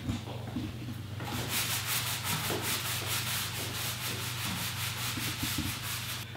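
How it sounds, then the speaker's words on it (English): Stiff brush scrubbing restroom floor tiles around urinals, with cleaning chemical applied, makes rapid, regular back-and-forth scratchy strokes, close and continuous over a low steady hum. "Maverick is going to scrub the tiles around the urinals to remove any debris that may be down there."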